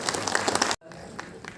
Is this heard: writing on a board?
no